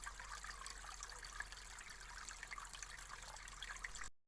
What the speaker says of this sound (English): you can hear all the water behind those rocks and everything as it comes down into this small pool and then joins the other one